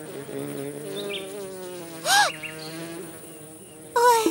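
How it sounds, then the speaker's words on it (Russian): A cartoon bee buzzes in a steady, wavering drone close by, with a brief louder swoop in the middle and another surge at the end. "О, пчела!"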